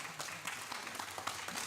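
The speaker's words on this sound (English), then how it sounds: "Another round of applause for Joan Wild." An audience at an outdoor Homestead Days community event gives a brief, faint round of applause, scattered clapping heard from some distance.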